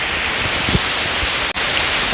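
Steady rain falls in the middle of a forest, a dense continuous hiss close by with a brief dropout near the end and no voices.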